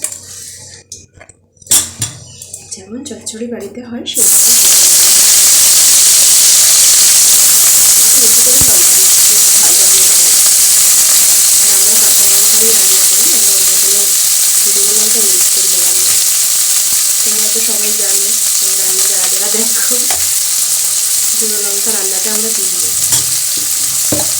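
Onions sizzle and crackle loudly in hot oil for a Bengali fish-oil vegetable dish, with a steady bright hiss that starts abruptly and continues under occasional stirring and clinks of a utensil against the pan.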